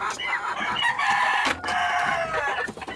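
Chickens released from their coop to roam outdoors cluck busily up close while a rooster's drawn-out crow rises over the flock, with repeated calls overlapping across the moment.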